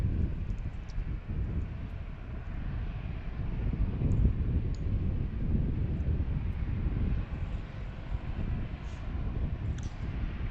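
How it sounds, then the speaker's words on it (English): A jet aircraft passes overhead near an airport, a broad low rumbling roar of engine noise and jet blast that holds steady and fills the whole stretch, with some wind buffeting the microphone. "you hear the engine sound when it passes over, and then like 10 seconds later you hear the jet blast"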